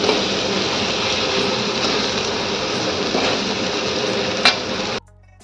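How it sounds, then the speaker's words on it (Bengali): A spiced mixture for jackfruit and prawn curry being stirred in a pan, a continuous scraping, sizzling rustle held steady for about five seconds before cutting off abruptly. "দিয়ে পুরো মিশ্রণটাকে নাড়াতে হবে। দিয়ে পুরোটাকে নাড়িয়ে নিলাম।"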